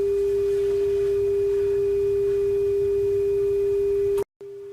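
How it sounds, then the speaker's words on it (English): Steady pure resonant tone from earphones placed in a tube, a singing hum held loud and unbroken, then cut off abruptly near the end with a brief silence before a quieter return. "The tube will have this singing quality, as though the tube is singing."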